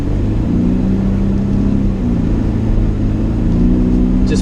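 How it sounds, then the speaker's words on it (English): Steady engine drone from a BMW held at revs with throttle modulation during a drift, a continuous loud mid-low roar with slight rising and falling pitch, wheel spin under it, no talk. "Just practicing modulating that throttle and wheel spin"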